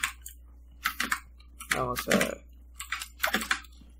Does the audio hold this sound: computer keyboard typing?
yes